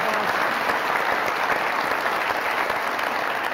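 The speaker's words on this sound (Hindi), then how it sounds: "बहुत सारी तालियां सानिया के लिए।" Studio audience on a Pakistani late-night comedy talk show applauds, a dense, loud and continuous burst of clapping that holds steady throughout with no talk over it.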